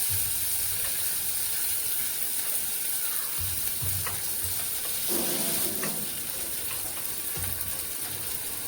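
Garlic and curry leaves sizzle in hot oil, a loud, close, continuous frying hiss with a few stirring scrapes and a brief surge of crackling partway through.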